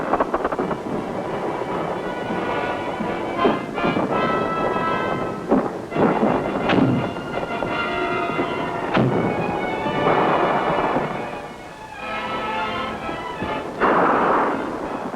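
Big guns of the 4th Infantry Division fire in support, a series of heavy booms and rumbling blasts rolling over a dense, continuous battlefield roar.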